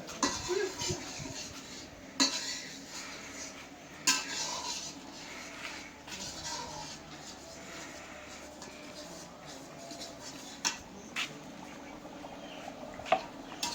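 Spices are sautéed and stirred in a pot in a village kitchen, with steady scraping and sizzle punctuated by sharp utensil clinks against the pot, while people talk nearby.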